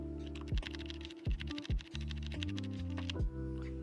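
Typing on an EVGA Z15 keyboard with linear mechanical switches, a string of crisp, close key clacks, set over a sustained musical tone with a few low thumps.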